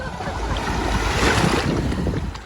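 Sea water sloshing and lapping at a beach in a light breeze, a steady broadband wash with wind rumble on the microphone, fairly loud and close with no talk.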